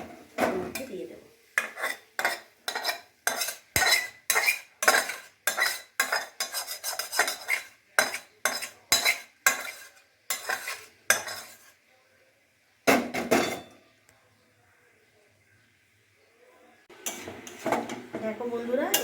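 A spatula clanks rhythmically against a pan while fish and potatoes are stirred: quick, regular metallic knocks, a pause, then a few more strokes.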